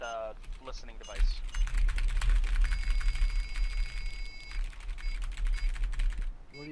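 Rapid keystrokes clatter on a computer keyboard in the horror game Forewarned, a dense, fast burst of typing lasting several seconds, close and crisp, with a brief voice at the start.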